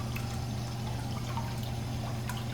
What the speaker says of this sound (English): So as you see now, there's residual water here, flushing it.